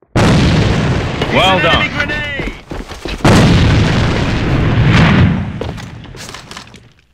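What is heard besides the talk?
enemy grenade exploding in the video game AVA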